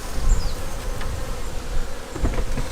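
Honey bees buzz steadily around queenless nuc hives at a queen-rearing mating apiary, a dense, continuous swarm drone with occasional closer passes and light handling knocks.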